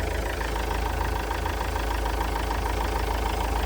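An Opel Zafira 1.9 TDI diesel engine with an automatic gearbox idles evenly, a steady close-up rumble with a rhythmic diesel clatter and no talk.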